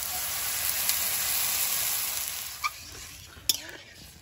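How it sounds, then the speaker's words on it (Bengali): Water added to potatoes frying in a pan gives a brief hissing sizzle that fades and softens, followed by a few sharp utensil clinks near the end. "এবার জল দিয়ে দেব।"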